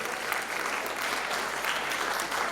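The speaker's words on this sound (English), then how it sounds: "Keep clapping for him." Steady, dense audience applause at an awards conference for a top-ranked student candidate, continuous and loud with a faint voice underneath.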